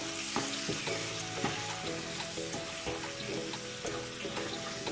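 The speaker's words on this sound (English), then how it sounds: "Adding some turmeric and chili flakes. So I'm going to give this a mix." Turmeric and chili flakes are stirred through a loudly sizzling pan as a chickpea curry cooks, steady frying hiss with repeated scraping strokes of the spoon throughout, close and continuous.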